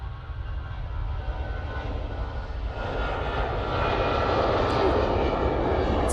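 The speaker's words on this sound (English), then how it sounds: "Tip nose forward there after rotation on that Aer Lingus." An Aer Lingus airliner takes off at Manchester Airport, its jet engines a loud, steady roar that swells and grows nearer over several seconds.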